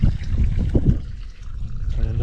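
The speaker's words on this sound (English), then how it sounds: "Nice little waterfall pipe." Water trickling steadily from a small pipe into a natural hot spring pool in Nevada, a continuous splashy burble with low rumbling and faint background noise throughout.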